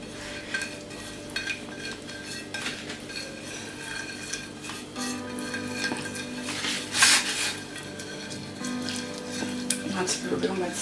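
Paprika, spices, salt and oil being mixed into chicken breasts in a bowl, giving continuous close squelching, stirring and clinking of utensils against the dish, with low talk in the background.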